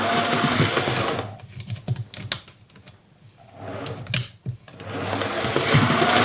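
An Accurascale Manor model locomotive's motor whirs at half speed, a steady mechanical buzz that fades to near quiet midway with faint clicks, then swells back up loud and even toward the end.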